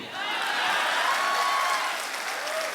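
A large crowd at a Hindi-language public speech claps loudly and steadily, the dense applause mixed with a few whoops and whistles from the audience throughout.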